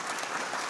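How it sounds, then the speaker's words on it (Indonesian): Audience clapping at an indoor forum, a brief burst of dense applause from a seated crowd, fairly distant and even. "Boleh tepuk tangan buat semuanya."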